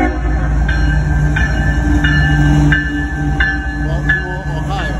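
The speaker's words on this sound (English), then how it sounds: "It's a long train too." A long intermodal freight train rolls past near a warehouse, a loud steady low rumble with rhythmic metallic squeals and clanks repeating as the cars go by.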